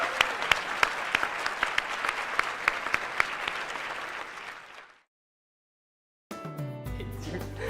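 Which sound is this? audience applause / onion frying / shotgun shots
audience applause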